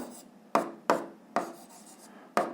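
Pen writing on paper while working a school physics problem, four or five short scratchy strokes, close and quiet, alone.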